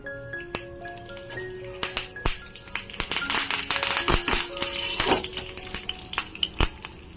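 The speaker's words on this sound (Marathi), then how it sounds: "मोहरी पण छान अशी ना तडतडू द्यायची" Mustard seeds crackle and pop in hot oil for a tempering, sharp irregular snaps bursting over a soft sizzle, with a few metallic clinks of a spoon.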